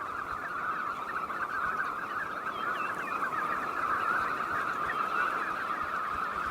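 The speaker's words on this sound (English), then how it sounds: "At the end of May, huge flocks of knot descend upon the fjord." A huge flock of knot shorebirds gathered at a Norwegian fjord, a dense, continuous chorus of overlapping calls that holds steady and fairly loud throughout, with no one speaking.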